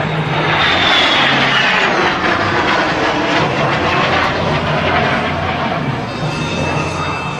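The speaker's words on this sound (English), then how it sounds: "Here comes the Sabreliner. Built by Rockwell, a business jet, now serving as a trainer for the military." A Rockwell Sabreliner business jet, now used as a military trainer, makes a loud, steady jet roar as it flies past at an airshow. The engine noise dominates the whole stretch with no talk over it.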